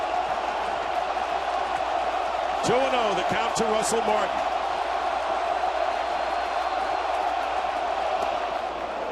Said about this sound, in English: with this crowd roaring in on its feet